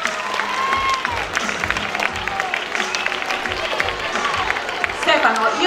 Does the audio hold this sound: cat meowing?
no